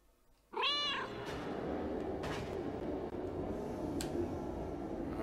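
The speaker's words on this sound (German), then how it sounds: "Miauen lassen, wenn du ihn oder Kit steuerst." Cat meowing in the video game Another Sight, a single clear, drawn-out meow at the start, followed by a dense, steady ambient game soundscape with a few faint clicks.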